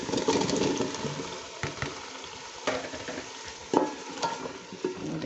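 Potatoes frying in masala in a home kitchen, a steady sizzle broken by scraping stirring strokes and occasional clacks of the spoon against the pan, close and moderately loud with no talking.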